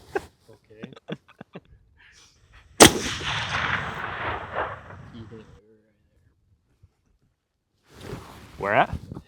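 A rifle fires a single loud shot at long range toward a cupcake target, with a sharp crack followed by a few seconds of rolling echo; scattered voices talk briefly before and after.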